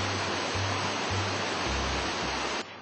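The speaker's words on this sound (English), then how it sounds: "we've been above watching the water come through the gates" Water from Lake of the Ozarks rushes through the dam's floodgates as a loud, steady broadband roar heard from above, with a low rumbling pulse underneath.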